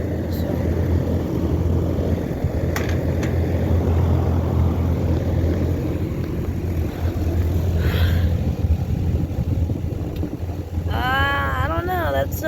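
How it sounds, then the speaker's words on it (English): A 2008 Trane XB13 3-ton air conditioner with an Alliance scroll compressor and a Gentech fan motor runs with a steady low droning hum and broadband whoosh throughout. Brief squealing tones sound near the end. "A Gentech fan motor."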